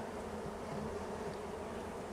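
Honey bees swarm around an open hive during a spring hive split, a dense, steady buzz of many insects close by that never lets up, with no talking.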